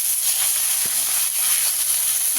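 Chopped brinjal sizzling with onion in a hot pan, a steady close hiss of frying that carries evenly throughout with no talk.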